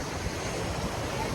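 Ocean waves wash onto a beach in a steady, continuous roar, close and fairly loud, with wind buffeting the microphone.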